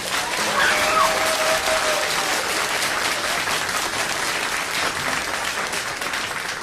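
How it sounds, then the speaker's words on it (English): Audience at a school Spring Fine Arts Night applauds the jazz band and junior band: dense, steady clapping fills the room for the whole stretch, with a few faint cheers or whistles mixed in. "Can I get a huge round of applause for the jazz band and the junior band?"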